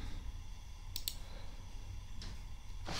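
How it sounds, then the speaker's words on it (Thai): Faint computer keyboard keys clicked while saving a file in SolidWorks, two quick close presses near the start, a single soft click a little later and another at the end, over a quiet room hum. "แล้วก็ Ctrl S ในคีย์บอร์ดเซฟไฟล์ไปนะครับ"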